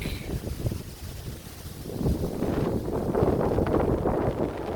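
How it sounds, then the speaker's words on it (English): Gusty wind in a vegetable garden buffets the microphone with a rough, low roar that swells in the second half, loud and close with no other sounds. "so windy today"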